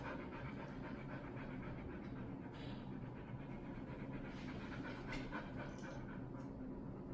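A dog panting rapidly and steadily throughout, close by, with a constant breathy rhythm and a faint high whimper near the end.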